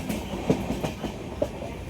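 A passenger train crosses the Chunni river bridge near Krishnagar, heard from on board: rhythmic clickety-clack of wheels over rail joints with several sharp knocks over a steady rumble, close and fairly loud, no talk.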